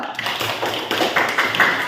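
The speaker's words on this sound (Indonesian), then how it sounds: "Berikan tepuk tangan dulu." Classroom applause during a teaching practice session, a short burst of many hands clapping rapidly and fairly close, with a few voices mixed in.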